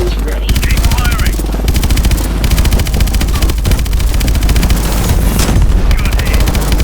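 Rapid, loud gunfire and explosive bursts of missile fire from the video game Call of Duty Advanced Warfare pound continuously, with a dense rattling rhythm and occasional whooshing launches layered over heavy rumble.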